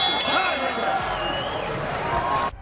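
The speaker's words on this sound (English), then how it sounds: "The bell and round number 3." A boxing ring bell clangs to open round 3 of a championship fight in Las Vegas, its ringing tone sustained over the steady murmur of a large arena crowd before cutting off abruptly.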